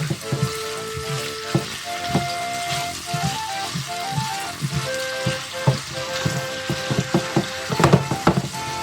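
Bacon sizzling in oil in a pan while being stirred and mixed, with crackling spatters, repeated utensil knocks and scrapes, and faint background music.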